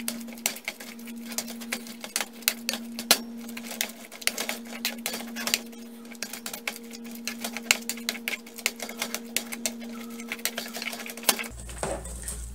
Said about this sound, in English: Just mash it all in.